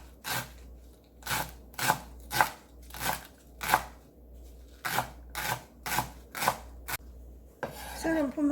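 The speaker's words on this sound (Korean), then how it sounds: "풋마늘 송송송송 썰어주세요." Green garlic is sliced with a knife on a cutting board, about a dozen evenly spaced crisp chopping strokes up close, ending with a rustle as the pieces are gathered.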